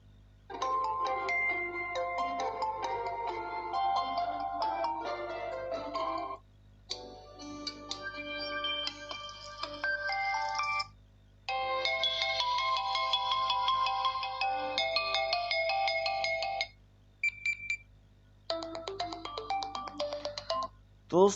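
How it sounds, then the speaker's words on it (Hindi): A run of ringtones from a QMobile View Max Pro phone speaker plays one after another: bright, tonal melodic tunes with short silent gaps between them, clear and fairly loud with no talking. "अब जो है हम Q mobile view max pro की कुछ रिंगटोन्स चला लेते हैं।"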